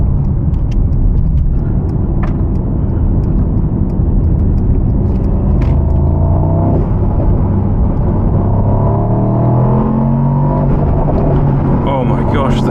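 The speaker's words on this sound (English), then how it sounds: "Oh, listen to that V8. What an insane engine." A new Mercedes SL AMG V8 accelerating hard, a loud continuous engine roar rising in pitch through the gears, heard from inside the car with a person talking over it.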